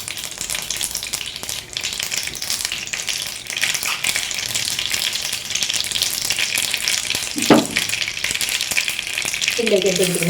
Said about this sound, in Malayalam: എണ്ണയിലേക്ക് 1 ടീസ്പൂൺ കടുക് ഇട്ട് കൊടുക്കും.